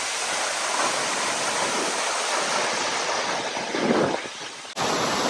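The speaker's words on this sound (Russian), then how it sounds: "Довольно очень мощный водопад." A powerful waterfall in Bali roars close by in a dense, unbroken rush of falling water, loud and constant with a brief break near the end.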